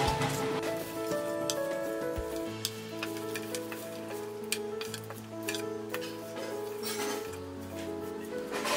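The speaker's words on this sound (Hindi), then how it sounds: "बाउल में डालेंगे ये स्वीट कॉर्न।" Fried crispy sweet corn kernels tumble into a bowl with light ticking, clinking patter, faint and close, under steady background music.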